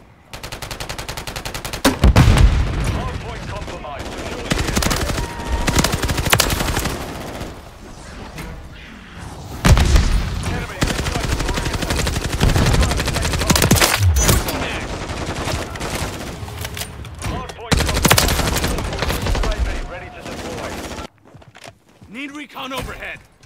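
Gunfire in the video game Call of Duty MWIII during a Hardpoint multiplayer match, dense bursts of automatic fire and loud shots throughout, with game radio voices and footsteps in the mix.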